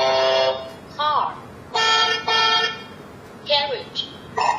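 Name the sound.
car horn from a kids' talking book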